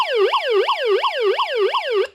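A 1990 Servco toy fire truck sounds a loud electronic wailing siren, five quick rising-and-falling sweeps repeating evenly, close and alone with no talk.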